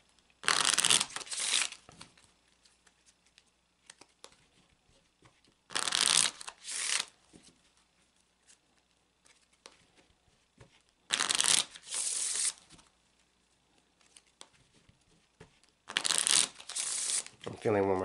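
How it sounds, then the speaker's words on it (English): Four separate bursts of a Lenormand card deck being riffle-shuffled up close, each lasting about a second or two, with quiet gaps and faint handling sounds between. "So I'm shuffling that into the deck."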